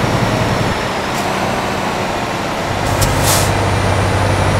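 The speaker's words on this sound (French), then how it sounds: "Donc ça c'est le frein moteur hein," Truck engine brake in the Euro Truck Simulator 2 video game, a loud steady low rumble and drone with brief hissing bursts of air, no talking.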